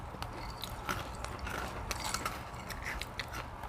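Crunchy butter coconut cracker sticks bitten and chewed close up, giving a steady run of crisp crackling crunches with no talking.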